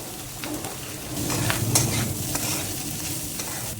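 Bitter gourd is stir-fried with masala in a kadhai, producing a moderate, steady sizzle with occasional stirring scrapes and clicks, close by and without speech.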